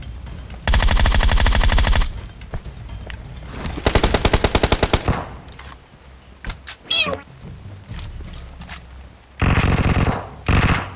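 Automatic gunfire from the shooter game PUBG Mobile, loud sustained bursts of rapid shots at the start, middle and end, with short gaps of quieter game sounds between them.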